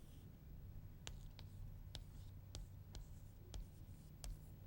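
Chalk or marker writing on a board during a base-five arithmetic lecture, a series of faint, sharp taps and short strokes spaced about half a second apart over low room hum, with no talking.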